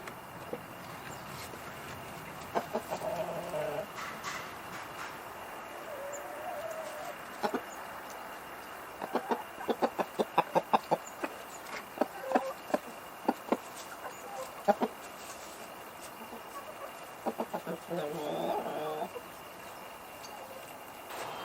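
Hens cluck and a rooster calls in short clustered bursts outdoors, moderately close, with gaps of quiet background between the flurries.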